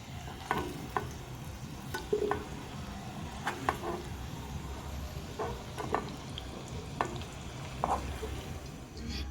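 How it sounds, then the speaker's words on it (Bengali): Potatoes frying in a kadai, heard as a soft continuous sizzle with repeated scraping stirs of a spatula, close and fairly quiet. "আলুটা ভাজা হয়ে এসছে"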